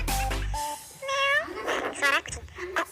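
Cat voice made by a voice changer app: a human voice pitched and warped into meow-like cries, several short mewing syllables in quick succession, close and clear.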